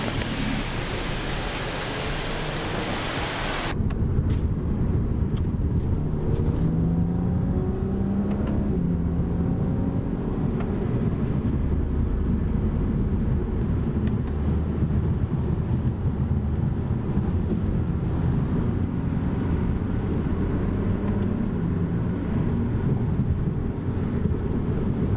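A car with a BMW N54 engine cruising a long, curvy road at night: a steady, loud engine drone with heavy wind and road noise inside the cabin, after a brief different sound at the start.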